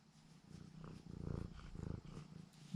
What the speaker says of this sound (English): That's a kitty Hemi, right